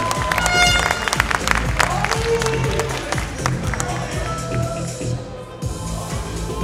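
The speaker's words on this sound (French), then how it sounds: "on le remercie, on l'applaudit bien fort." Crowd applause with cheering at the 2017 Musclemania Paris bodybuilding show, steady dense clapping over loud music that continues throughout.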